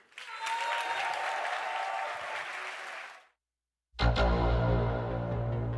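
Audience applause at the Ubisoft Forward game showcase, a dense wash of clapping that fills the room for about three seconds, cuts off into a brief silence, then gives way to loud music.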